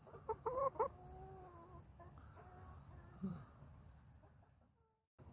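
Backyard chickens give a few soft, faint clucks and short calls during morning chores, spaced out over a quiet background.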